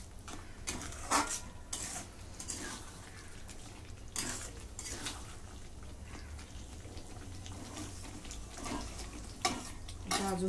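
A spoon stirring paneer korma with kasuri methi in a pan, steady soft sizzling under intermittent scraping and clinks against the metal, close by with no speech.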